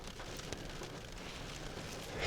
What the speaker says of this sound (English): It's just hitting extra hard.